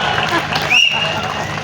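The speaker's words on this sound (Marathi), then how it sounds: "इकडून कोणी कोणी टाळ्या वाजल्या बघून घ्या" Audience applause at a college annual prize ceremony in Miraj, a burst of clapping from a large hall crowd heard under and around a speaker's voice, fairly loud and continuous.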